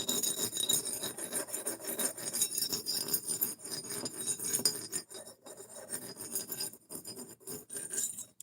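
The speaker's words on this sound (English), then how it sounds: "So I've never used a fixed angle sharpener before." Close, steady rasping strokes of a knife edge drawn across the stone of a fixed angle sharpener, repeating in a continuous scraping rhythm with faint metallic clinks and no talking.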